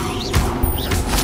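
Levioso levitation spell cast in Hogwarts Legacy, heard as two quick whooshing bursts about half a second apart, each with a faint rising whistle, over a low steady hum.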